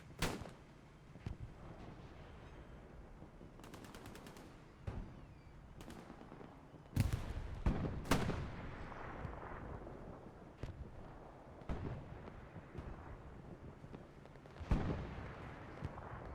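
A Panzerschreck fires at the front of a tank turret in a WWII battle game set at Tobruk, heard as a few sharp, loud blasts with ringing tails scattered among distant gunfire and explosions across the battlefield.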